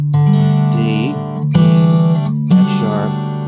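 A guitar in DADGAD tuning plays scale notes against ringing drone strings, in a few plucked phrases with sustained tones, close and clear, with no talking.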